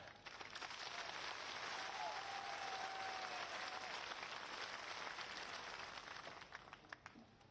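A large crowd at an outdoor political election rally in Sihonia, Ambah, Morena district, India, breaks into thunderous applause. The clapping is a continuous, dense roar that holds steady for several seconds and heard from some distance before tapering off.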